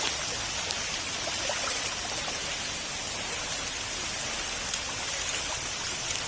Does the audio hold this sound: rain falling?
yes